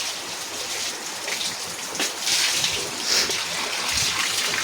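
Water splashes and pours while cows are bathed, a continuous wet spatter with several louder splashes bursting out over the middle stretch.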